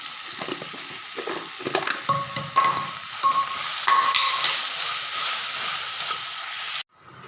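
Spices sautéing in hot oil for a chicken gravy, a steady close sizzle with scraping stirs and brief clinks, running continuously before cutting off sharply near the end.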